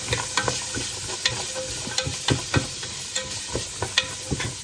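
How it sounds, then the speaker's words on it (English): A spoon stirs food around in a hot pan, with a steady sizzle broken by repeated sharp scraping knocks at an irregular rhythm, close and fairly loud, no talking. "Stir that around."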